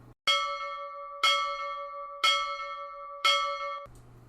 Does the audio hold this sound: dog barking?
no